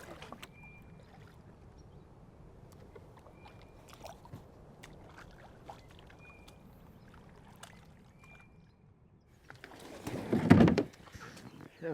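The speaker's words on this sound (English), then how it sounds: "I'm gonna go and bank my kayak right over there" A kayak is paddled along a river and run up onto the shore: soft paddle strokes and faint water sounds, then a louder scraping, bumping burst near the end as the hull grounds.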